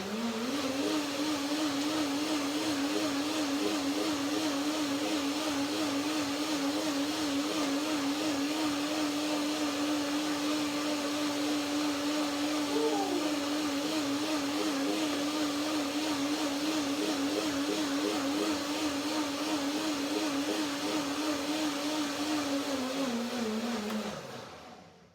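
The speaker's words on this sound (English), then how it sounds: "One more blending and then I see if it fits." A blender whirs steadily while blending cashew cream for a fruit salad. The loud, continuous motor drone holds an even pitch with slight wavering, runs alone without talk for about 24 seconds, then winds down at the end.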